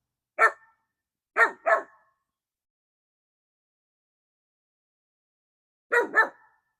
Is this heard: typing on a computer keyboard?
no